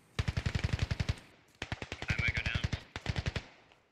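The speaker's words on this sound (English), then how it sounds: "Oh, he's shooting at Spinks." Rapid bursts of automatic gunfire crack out in a video game, three distinct volleys of evenly spaced shots separated by brief pauses, fairly close and loud.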